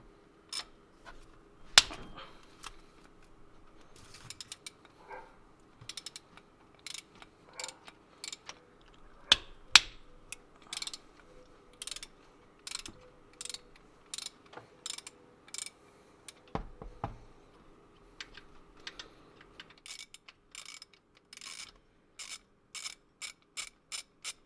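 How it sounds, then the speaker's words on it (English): A ratchet turns fasteners loose on a Nissan VQ35 engine during idler pulley removal. Quiet bursts of rapid clicking are spread across the clip, with scattered clanks of tools and parts and a few short pauses between bursts. "So all you have to do is just remove them and remove the pulley."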